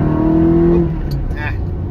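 A 24-year-old Ferrari's engine hums and rises briefly while driving, close and moderately loud, with a voice speaking over it.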